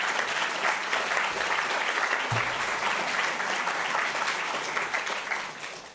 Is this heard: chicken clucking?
no